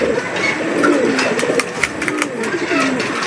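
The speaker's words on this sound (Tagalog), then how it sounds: "ganda ng ating mga ibon ayan o" Pigeons in a rooftop loft give low, continuous cooing, fairly close and steady throughout, with some faint background rustle.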